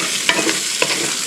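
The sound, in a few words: potatoes frying in a pan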